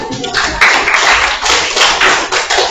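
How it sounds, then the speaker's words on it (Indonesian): A class gives applause for a student group's presentation, dense broadband clapping from many hands filling the room steadily for a few seconds, with a little talk mixed in. "Kita beri aplaus dulu."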